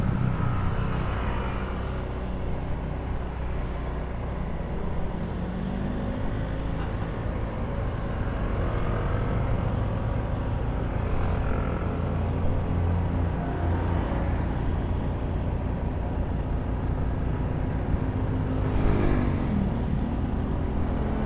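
Honda Wave RSX motorcycle engine straining up a steep climb on a ride in Batangas, a loud, steady, labouring drone that holds close and continuous throughout with no voices.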